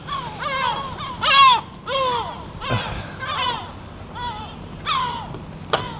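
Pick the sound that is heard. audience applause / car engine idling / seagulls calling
seagulls calling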